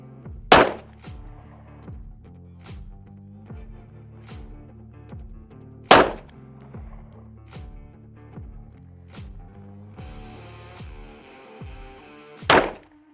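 Three loud, close 9mm pistol shots at a target on a shooting range crack out several seconds apart, with quieter, regularly repeating knocks and clicks in the gaps between them.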